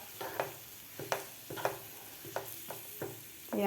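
Potatoes being stirred into a spicy masala in a pan for vada rassa, a series of soft, regular scraping strokes of a spoon over a faint sizzle, close and fairly quiet.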